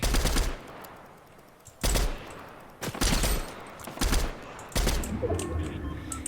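Rapid bursts of video game gunfire, loud and close, come in about five separate volleys with short gaps between them and a steady background hum.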